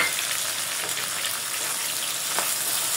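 Onions fry lightly in a pan with spices for a Bengali country-chicken curry, a steady bright sizzle and soft crackle throughout, close and even in level, without any voices.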